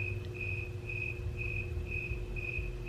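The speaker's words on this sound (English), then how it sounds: "Can you hear how loud the crickets are right now?" Crickets chirping loudly outdoors at night, a steady high pulsing trill repeating in even bursts over a low background hum.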